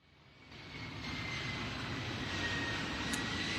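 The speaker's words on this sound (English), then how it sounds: "That's not a UFO, by the way, that's an airplane." An airplane passes overhead as a broad engine roar that swells from faint to a steady, fairly loud rumble and holds, with no talking.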